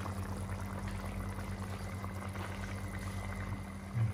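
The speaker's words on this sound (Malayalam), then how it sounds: "നമ്മുടെ മസാലയൊക്കെ നന്നായിട്ട് തിളച്ച് വന്നിട്ടുണ്ട്" Fish curry masala for a trevally head simmers in a pan, making a quiet, even bubbling with a faint background hum and no voices.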